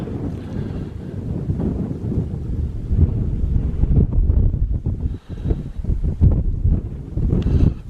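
Strong, gusty wind on Carnedd Llewelyn in Snowdonia, North Wales, buffets the microphone in a loud, continuous roar that rises and falls in waves, with no voices.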